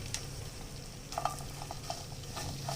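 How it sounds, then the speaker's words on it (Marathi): Pitted dates roast in a spoonful of ghee in a pan, a soft low sizzle with a few light scrapes and taps of a spatula, quiet and close. "हे सगळे खजूर भाजून घेऊ।"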